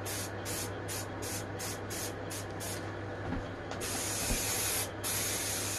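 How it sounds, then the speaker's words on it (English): A pressurised spray can applies top coat to a mains conditioning hub casing in a steady, loud hiss. The hiss pulses in short bursts, then runs in longer continuous blasts, with no talking. "See how powerful the spray is as it comes out, because the can's been pressurised really well."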